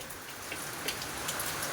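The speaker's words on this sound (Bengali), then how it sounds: "কন্টিনিউয়াসলি তো বৃষ্টি পড়েই যাচ্ছে, দেখতেই পাচ্ছ তোমরা" Continuous rain falls steadily during a storm, a soft, even patter heard alone at low level for the whole stretch.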